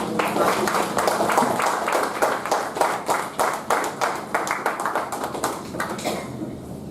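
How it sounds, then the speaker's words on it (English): A meeting audience claps for a speaker at a Toastmasters gathering; dense, close applause at first breaks into distinct, spaced claps that thin out and fade near the end. "Let's give a big round of applause."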